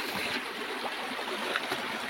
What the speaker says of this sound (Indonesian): Nah, airnya cukup deras, teman-teman, bersih, warnanya agak merah